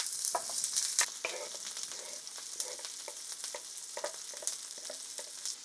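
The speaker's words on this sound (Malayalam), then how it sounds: "നമുക്ക് അതിനകത്തേക്ക് സവോളയും നമ്മുടെ ഇഞ്ചിയും വെളുത്തുള്ളി അരിഞ്ഞതും ചേർക്കാം" Chopped onion, ginger and garlic sizzle and crackle steadily in hot oil, with a few louder stirring scrapes against the pan throughout.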